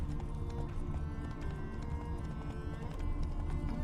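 Geralt's horse Roach galloping in The Witcher 3, a steady, continuous rapid clatter of hooves heard up close with a thick low rumble underneath and no talking.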